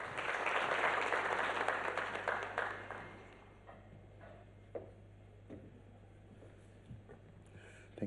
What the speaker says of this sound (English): Shall we give him a round of applause, please?